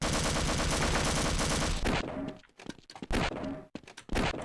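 Rapid MP5 submachine gun fire in the FreeCS game, a loud dense burst for about two seconds, then a few short separate shots and bursts with gaps between them.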